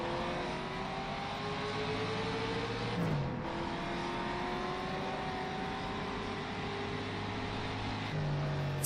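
Ferrari race car engine in the rFactor 2 racing game, in a 1954 setting, revving hard and climbing through the gears, with a brief gear-change dip partway and a second shift near the end, loud and steady with no talking.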